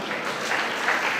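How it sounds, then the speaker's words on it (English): An audience claps steadily for people coming forward at a gathering, a dense, even wash of applause through the whole short stretch. "Let us clap for them as they come."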